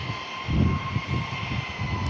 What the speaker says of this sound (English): This is a heavy aircraft.